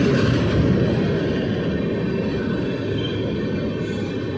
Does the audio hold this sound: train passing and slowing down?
yes